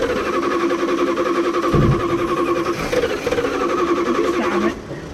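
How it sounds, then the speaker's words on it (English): The engine of a 1978 Dodge Ram W100 pickup cranks over with a rapid rhythmic churning from the starter, loud and close, cutting off near the end. "I suppose I'll keep cranking it so it sucks it down."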